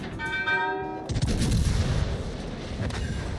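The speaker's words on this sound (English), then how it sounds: "I was able to overmatch its armor with my 15-inch guns" Naval gunfire from 15-inch battleship guns in World of Warships Legends: after a brief tonal chime, a heavy booming salvo erupts and rumbles on, with further thudding blasts trailing behind, loud and close.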